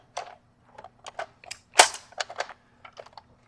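Rounds of .22 ammunition loaded into a Taurus TX22 magazine with a speedloader, heard as a string of light, sharp metallic clicks and snaps in an uneven rhythm, close and fairly quiet, with one louder click near the middle and no talking.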